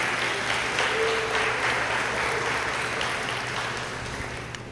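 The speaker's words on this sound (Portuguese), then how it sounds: "Uma salva de palmas para Jesus nessa noite." A congregation claps loudly during a church service, dense continuous applause that holds steady and then begins to fade toward the end.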